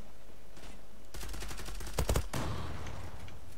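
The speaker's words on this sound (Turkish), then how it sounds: "Abi adamlar her yerden sıkıyor" Gunfire in the online shooter Zula, a sudden rapid volley of close, sharp shots that bursts out after a quiet lead-in, peaks in a loud cluster of blasts, then tails off into lingering rumble.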